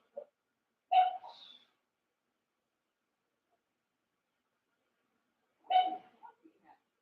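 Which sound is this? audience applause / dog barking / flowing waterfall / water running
dog barking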